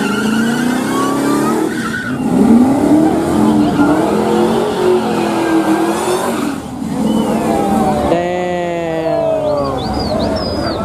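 Two Ford F-150 pickups, an SVT Lightning with a front-mount intercooler and a Harley-Davidson edition, race at a track, engines revving loud with rising and falling pitch and tire squeal, over steady crowd noise and voices.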